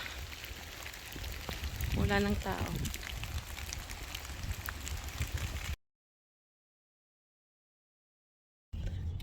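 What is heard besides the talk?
heavy rain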